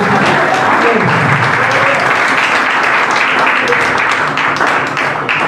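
A church congregation claps together in worship, loud and dense throughout, with sharp individual claps poking out of the wash and some voices mixed in beneath.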